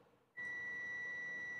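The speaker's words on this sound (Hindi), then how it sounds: "तो हमने मीटर को भी बजर पे सेट कर लेना है" A digital multimeter set to continuity mode beeps while a driver component is tested during a Hyundai Nexo car stereo repair. After a brief quiet moment, a steady, piercing electronic tone switches on and holds unbroken, close and clear.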